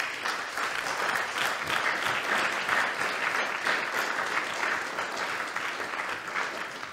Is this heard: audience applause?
yes